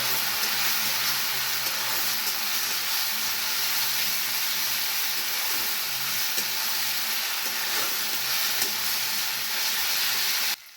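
Onion frying in a pan with garlic, ginger and green chili paste for a simple chicken curry, a loud, steady broadband sizzle that carries on without a break for about ten seconds and stops abruptly at the end.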